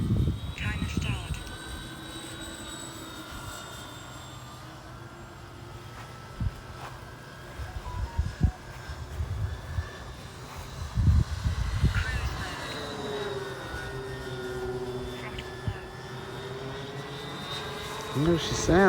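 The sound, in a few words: RC model F7F Tigercat airplane flying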